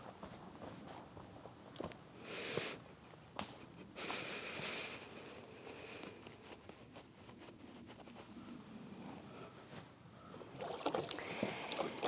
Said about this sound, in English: The wind has picked up just in time for us to get back in the canoe to get back to shore.